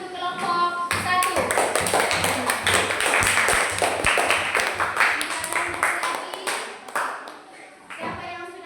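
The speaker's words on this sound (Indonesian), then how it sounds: "Ayo tepuk tangan dulu untuk kelompok 1." Children in an elementary school classroom clap for a group after its presentation, with a dense burst of fast, close handclaps lasting several seconds before fading, under chatter and voices.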